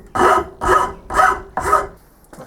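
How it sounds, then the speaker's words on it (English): Belt sander tidying up a machined metal part: four loud, evenly spaced rasping passes, each about half a second, with short gaps between, close and alone. "let's give it a quick bit of a tidy up on the belt sander"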